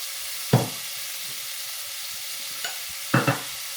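A vegetable biryani mixture with asafoetida is stirred in a pan, giving two or three brief scraping stirs over a soft, steady background sizzle.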